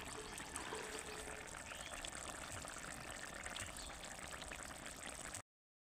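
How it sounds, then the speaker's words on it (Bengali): Ghee pours and spreads over a simmering vegetarian curry, a steady faint liquid trickle and bubbling that runs for about five seconds before cutting off to silence. "উপর থেকে একটু ঘি ছড়িয়ে কিন্তু ভালোভাবে একটু মিশিয়ে নেব"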